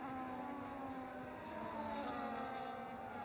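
Steady engine drone of race cars on a formation lap at Great Britain in a racing video game, a continuous even hum with a slowly shifting pitch and no talk over it.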